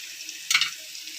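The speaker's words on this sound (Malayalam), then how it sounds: "ഇതിൽ ഈ കടുക്, വറ്റൽമുളക്, കറിവേപ്പില ഇത്രയും കൂടി ചേർത്ത് മൂപ്പിച്ചതിന് ശേഷം നമ്മൾ ചതച്ച് വെച്ച മസാല കൂടി ചേർത്ത് വഴറ്റി കൊടുക്കാം." Crushed masala hits hot coconut oil with mustard seeds, dried red chillies and curry leaves while tomato rasam is being made, giving one brief, faint sizzle against near silence.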